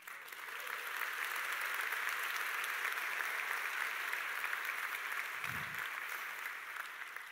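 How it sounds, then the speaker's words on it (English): Graduates at a university engineering graduation ceremony applaud and cheer, a dense, sustained wash of clapping from a large crowd lasting several seconds. "What about a cheer from you?"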